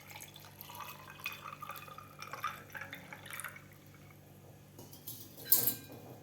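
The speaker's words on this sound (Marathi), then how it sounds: "यामध्ये घालायचं आपल्याला थंड पाणी." Cold water is poured into a glass of cumin sherbet over ice and mint, a faint trickle and drip with small glassy clinks and a louder splash near the end.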